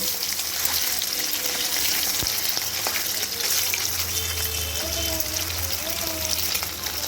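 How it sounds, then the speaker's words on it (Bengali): Four eggs with a pinch of turmeric and salt frying in a pan, a steady close sizzle with occasional light clinks and stirring sounds throughout. "চারটে ডিম একবারে দিয়েছি এখানে একটু সামান্য হলুদ আর খুব সামান্য একটু নুন দিয়ে এটি রোপিট করে একটু ভেজে নেব"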